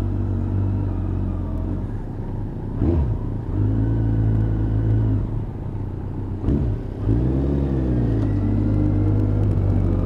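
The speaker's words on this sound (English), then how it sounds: "out with RB, and a little bit of a ride with the boys down to Super Sausage." Motorcycles ridden in a group on a Sunday morning road run, heard as a steady close engine drone with strong low rumble, briefly dipping and rising twice as throttle shifts.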